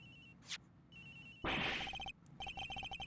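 Victim's phone ringing in the Ace Attorney Investigations video game, a repeated electronic ring tone with short pulsed bursts, fairly faint and partly covered by a brief louder noise burst in the middle, no talking.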